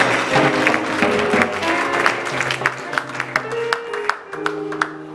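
A church congregation applauds and acclaims the Lord during worship, steady clapping mixed with music and sung or spoken voices, the crowd noise continuous throughout.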